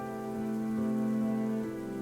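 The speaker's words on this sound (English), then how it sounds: "listening to the patter of rain against our little tent" Soft, steady rain patters against a small tent in a video game, a continuous close hiss of drops under a sustained musical hum.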